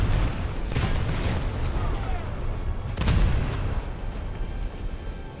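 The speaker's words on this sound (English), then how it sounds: "Fortunately, we haven't lost our main gun, so we'll keep the fire on him, switching to HE to try and finish off his crew." Main guns of the destroyer HMS Cadiz firing high-explosive rounds in a naval combat game, heavy booming blasts rolling over a continuous low rumble, with two stronger thuds standing out, loud and dense throughout.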